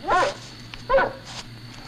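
A dog in a 1967 film scene aboard the motor ship Ivan Franko gives two short, clear yelps or barks about a second apart, close and fairly loud over a quiet background.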